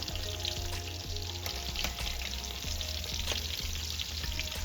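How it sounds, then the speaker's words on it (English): Green tomato slices fry in hot oil with a constant close crackling sizzle and small popping bursts throughout, under a faint low kitchen hum. "Let those fry up about 30 seconds on each side."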